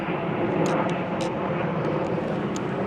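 A large airplane passes overhead with a loud, steady broadband roar that fills the whole stretch, with a few brief high chirps on top and no talking.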